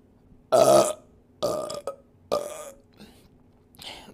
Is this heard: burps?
yes